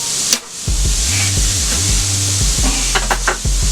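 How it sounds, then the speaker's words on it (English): Diced ham sizzles on a flat top griddle, a loud close hiss with a low tonal hum underneath and a few sharp spatula taps near the end, no talking. "I'm going to add some of my diced ham up here in the top left hand corner here"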